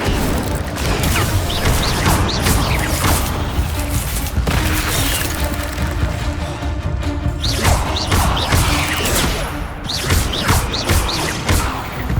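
Hogwarts Legacy combat against spiders with the Incendio fire spell, a dense and loud clash of booms, thuds and crashing bursts that keeps up without pause.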